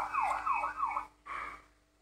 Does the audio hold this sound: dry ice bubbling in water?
no